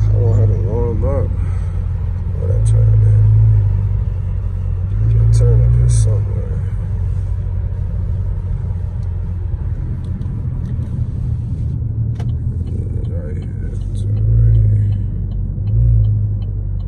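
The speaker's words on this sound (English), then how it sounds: "that turbo baby, she talking, but she not warmed up yet" A turbocharged Buick sleeper idles while still warming up, its low rumble steady inside the car with a few gentle swells, and someone talks over it.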